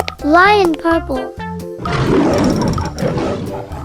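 A lion roars in a children's animal video game, a loud, rough, sustained roar rising after a short burst of cartoonish voice and staying strong to the end.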